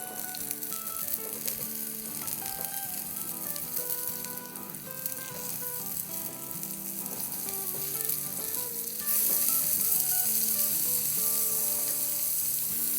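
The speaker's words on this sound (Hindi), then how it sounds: "तो बस इसी तरह उलटते पुलटते हुए इसको तल लेंगे हम अराउंड 7-8 मिनट तक" Steady, loud sizzling of copycat McArabia patties frying in oil as they are flipped, a continuous bubbling hiss with small stirring clatters, growing slightly louder near the end, with no talking.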